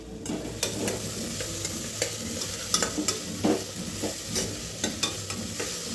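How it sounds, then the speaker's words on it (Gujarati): Carrots, potatoes and other chopped vegetables are mixed into sizzling instant noodle rice in a pan, with a spatula clacking and scraping in irregular close strokes over a continuous frying hiss. "આપણે હવે આમાં ઉમેરી દેશી અને મિક્સ કરશી"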